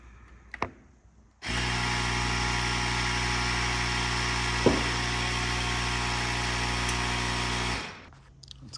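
Small electric air pump runs steadily for about six seconds, inflating a basketball pushed inside a Gr86's body panel to force out a dent, a loud continuous motor hum that starts and stops abruptly, alone.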